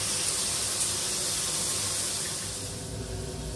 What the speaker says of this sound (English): The shower's been running now about 5 minutes.